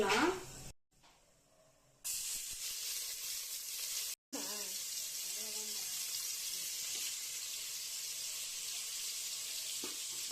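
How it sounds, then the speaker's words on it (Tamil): Chopped onions dropped into a pan of hot oil with frying pepper, a bright steady sizzle after a brief silence and a short gap, with a voice speaking over it. "இந்த வெங்காயத்தை நல்லா வதக்கிக்கலாம்."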